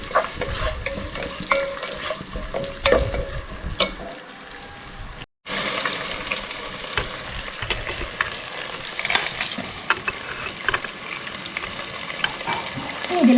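Food sautéing in a pan gives a continuous sizzle under frequent scrapes and knocks of a stirring spoon, close and moderately loud, with one brief dropout partway through.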